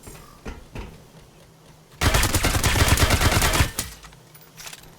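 Rapid gunfire aimed at robots in the video game Dysterra: one dense, loud burst lasting about two seconds, framed by quieter game sounds before and after.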